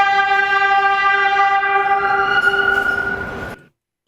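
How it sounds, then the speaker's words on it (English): A New York City train horn blares as a loud, sustained chord for about three and a half seconds, full and close, then cuts off abruptly into silence. "And that's a New York City train sound."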